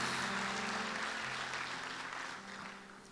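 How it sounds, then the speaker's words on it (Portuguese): A church congregation applauds throughout, a broad steady wash of clapping that stays loud and full before easing slightly toward the end, with no voices on top. "Olha, aplaude a Deus por isso, aplaude."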